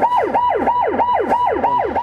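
A Korean-made ambulance siren wails loud and close in a fast, repeating rise-and-fall sweep, about seven cycles in two seconds, with no voices.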